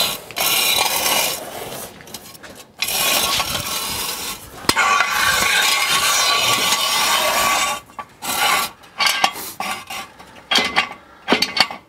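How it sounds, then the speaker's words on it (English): A jack is worked under the axle of a 1957 Chevy Bel Air, giving loud metallic ratcheting and grinding in bursts with short pauses between strokes, close up and without talk. "I'll let you jack it up and I'll get this out from under here."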